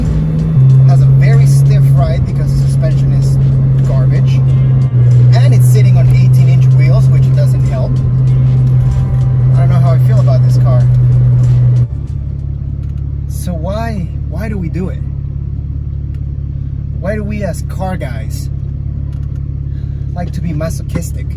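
A Porsche sports car with stiff suspension and 18-inch wheels cruises along, its engine a steady, loud drone that drops to a lower hum midway, while someone talks over it throughout.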